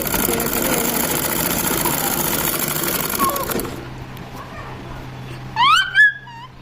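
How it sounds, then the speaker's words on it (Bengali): A sewing machine runs steadily while stitching the middle seam of half-pant shorts, a continuous mechanical whir for several seconds that stops abruptly, leaving quiet with a few faint brief chirps. "এবার মিডল দিয়ে আমাকে আর একটা সেলাই দিতে হবে, পিছনে আর সামনে।"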